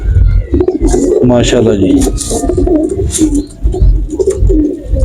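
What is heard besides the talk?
pigeons cooing in a loft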